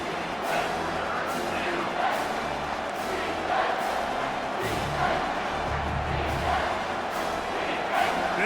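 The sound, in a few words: stadium crowd cheering in a football video game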